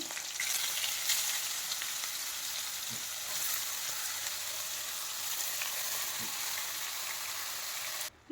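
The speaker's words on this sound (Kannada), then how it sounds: "ಈಗ ತುರಿದಿರೋ ಗೆಡ್ಡೆಕೋಸನ್ನು ಹಾಕ್ತಾ ಇದ್ದೇನೆ." Grated knol khol sizzles steadily in hot oil with green chillies and curry leaves, a continuous close, even frying hiss that holds throughout, broken by a couple of faint stirring knocks.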